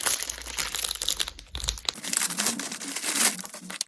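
Nail art foil is handled up close and gives off a steady, busy crinkling and crackling for a few seconds, with no talking.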